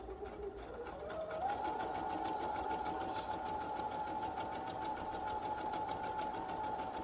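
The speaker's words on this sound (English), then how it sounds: "we're going to sew straight and then we're going to back stitch so that we can lock in our stitching" A sewing machine runs steadily, stitching fabric for a hair bonnet, with a continuous whirring hum and rapid needle ticking that holds even and close for the whole stretch, no talking over it.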